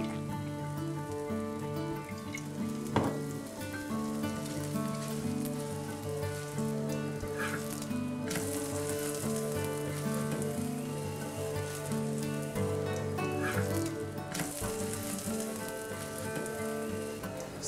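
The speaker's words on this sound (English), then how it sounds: "oil to fry the paratha. Here I'm using rice bran oil." Palak paneer paratha frying in rice bran oil on a hot pan, a steady close sizzle with crackling pops and occasional scraping or stirring, no talking.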